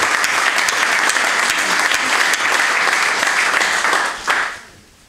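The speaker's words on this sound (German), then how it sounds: "einen Applaus für Bernd Schattner." A hall full of guests at a party's New Year reception in Landau applauds a man, a dense, even roar of clapping that holds steady, then fades out quickly near the end.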